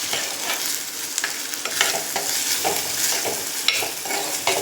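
Green chilli, ginger and garlic fry in a pan, a dense continuous sizzle with soft stirring scrapes throughout, close and fairly loud, no talking.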